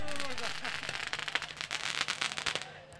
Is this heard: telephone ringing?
no